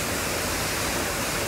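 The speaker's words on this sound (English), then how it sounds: "I don't know that I've ever walked behind a waterfall in my life." A waterfall in Australia's Snowy Mountains roars as a dense, steady wash of broadband noise, close and loud, with no pauses or voices.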